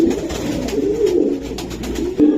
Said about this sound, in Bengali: খুবই সুন্দর একটা পাইট কবুতর